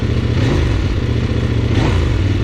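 Engine of a KOVE 800X adventure motorcycle running up close, a loud steady mid-pitched drone with a slight rise in revs near the middle and again toward the end, no talking.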